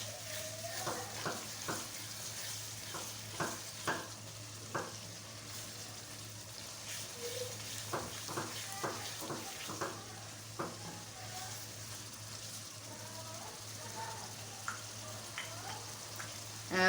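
Mutton keema frying with spices in a karahi, a soft steady sizzle under repeated scraping and knocking strokes of a spatula, moderately quiet, with no voices.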